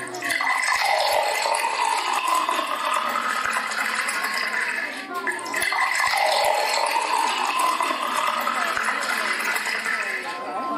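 Water pours steadily into clay pots, a continuous splashing rush with a brief break in the middle before resuming, loud and close.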